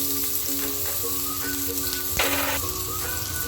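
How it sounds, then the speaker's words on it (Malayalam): Chopped ginger fries in the oil left from frying salmon for a Thai-style dish, making a loud, continuous crackling sizzle with a brief surge of spattering partway through and light stirring underneath. "നമ്മുടെ സാൽമൺ വറുത്ത എണ്ണയിൽ തന്നെ അരിഞ്ഞ് വെച്ചിരിക്കുന്ന ചോപ്പ് ചെയ്ത് വെച്ചിരിക്കുന്ന ഇഞ്ചി"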